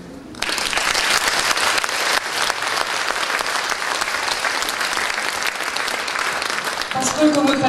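Audience at an anniversary evening in a concert hall applauds together, a dense sustained clapping that starts abruptly and continues loud and steady for several seconds before fading as a voice begins speaking.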